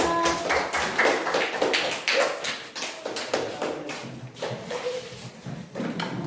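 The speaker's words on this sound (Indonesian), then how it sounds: "Berikan tepuk tangan kepada kelompok 4" Classroom applause for a student group: irregular hand claps and taps from a room of students, fairly close and steady throughout, with scattered knocks and faint murmuring beneath.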